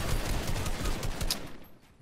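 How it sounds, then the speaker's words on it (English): Rapid bursts of automatic gunfire in Fortnite at Tilted Towers, a dense fusillade of loud, close shots for most of the moment, cutting off abruptly near the end. "Shoot him out. Shoot him out."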